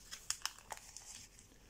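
Paper being creased into a fold for an origami pteranodon, with faint crinkling and a few soft sharp crackles close by, alone and quiet.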